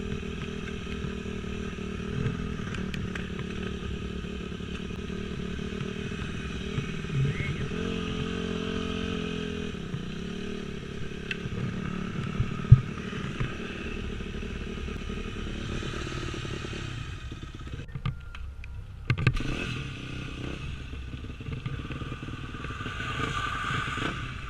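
A dirt bike motorcycle rides along a forest dirt road with a steady engine drone and occasional clatter and scrapes, then revs briefly near the end, with faint voices in the background.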